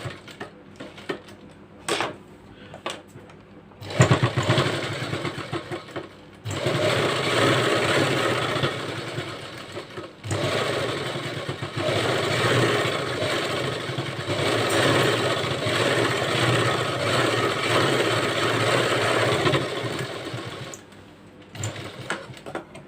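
A sewing machine stitches a collar-neck blouse: a few short bursts of stitching first, then long steady runs of fast whirring and clattering at close range, broken by brief stops, with no talking.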